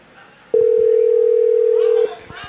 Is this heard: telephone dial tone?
yes